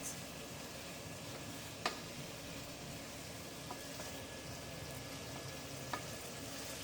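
A beginner's stir-fry dinner sizzles in a hot pan as a quiet, continuous hiss with a few faint taps of a utensil against the pan.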